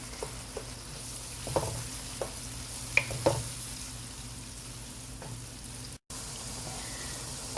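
Soaked, strained moong dal is stirred into vegetables frying in a pan, a soft continuous sizzle broken by scattered utensil knocks and scrapes, with one brief gap near the end.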